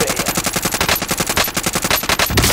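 Rapid automatic gunfire rattles through a video game shootout, a dense, loud, close burst of evenly spaced shots with no pause.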